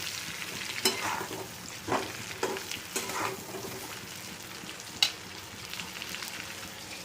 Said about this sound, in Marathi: वांगी भाजत आहेत तेलात